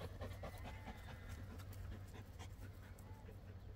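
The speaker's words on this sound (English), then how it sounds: "All I can hear is her panting." A Belgian Malinois panting hard and close, a steady rapid breathy rhythm outdoors without talk.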